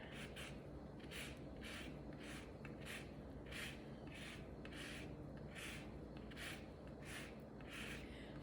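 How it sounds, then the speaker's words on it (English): Two lemons being zested with a hand zester, a steady series of about a dozen close, rhythmic raspy scrapes against the peel, repeating roughly every half second with no talk. "Now I'm going to take 2 lemons here, and I'm just going to zest them."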